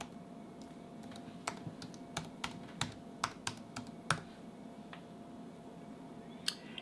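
Someone types a password on a computer keyboard while setting up SSH on a Raspberry Pi 4B for OctoPrint, producing a sparse, irregular run of soft, close key clicks against a faint background hum.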